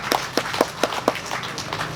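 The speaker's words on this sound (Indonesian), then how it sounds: "tepuk tangan dulu untuk tim kita" A small group claps for a team at a community gathering, with sparse, distinct claps in a loose, uneven rhythm, close and moderately loud.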